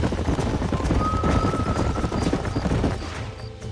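In the Red Dead Redemption video game, horses clop their hooves close and loud while one neighs in a long whinny, with other game sounds mixed in.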